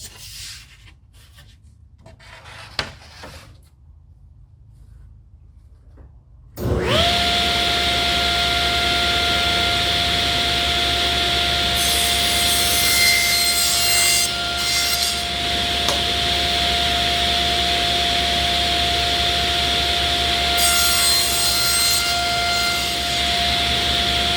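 A machine cutter runs steadily and loudly through a panel being cut to length, a sustained whine with a high tone starting abruptly after a few seconds of near-quiet.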